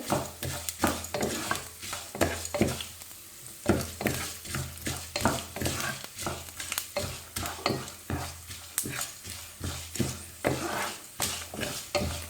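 Leftover idli pieces fry until golden brown in a pan, a continuous sizzle broken by rhythmic stirring scrapes and clinks every half second or so, close and moderately loud.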